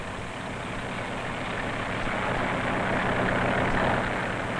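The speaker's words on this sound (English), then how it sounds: "The Johnson tractor pulls the cultivator along the rows of growing corn." A farm tractor drones steadily as it pulls a cultivator through rows of young corn on a bright June day. The engine rumble is continuous and fairly close, with no voices.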